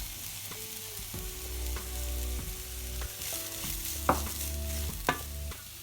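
Onion and cabbage for vegetable momos fry lightly in a pan, a soft close sizzle broken by repeated stirring scrapes and two sharper clacks near the end.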